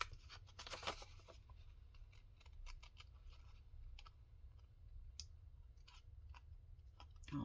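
Paper crafting scissors snip through paper in a few quick, faint cuts, followed by scattered light clicks and handling noises in a quiet room.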